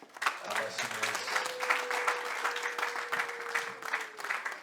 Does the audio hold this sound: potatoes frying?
no